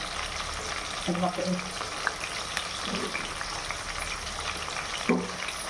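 Tomatoes sizzle and fry in a pan of drumstick curry (munakkaya pulusu), a steady close crackle with a few brief stirring clinks and bursts, no speech.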